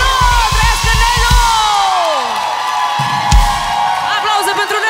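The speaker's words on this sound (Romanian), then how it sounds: "Aplauze pentru Nelu!" A concert crowd at a live show cheers and whoops loudly, while a voice shouts over the noise and music plays beneath it.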